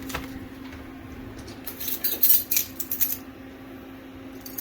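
A spoon scrapes and clinks against a bowl while flaxseed meal and baking powder are stirred together, a short cluster of close metallic taps and scrapes over a low steady hum.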